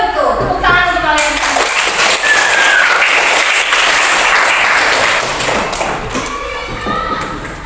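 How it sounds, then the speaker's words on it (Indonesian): A roomful of schoolchildren claps together, loud, dense and close, with voices calling out over the applause as it slowly fades. "Tepuk tangan untuk kalian"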